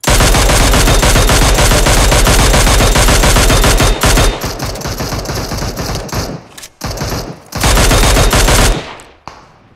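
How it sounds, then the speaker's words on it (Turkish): Loud automatic gunfire from the PUBG Mobile battle royale game rattles in a long, dense burst. Shorter, broken volleys follow, then one more sustained stretch before it cuts off. "Bana sıkıyorlar abi."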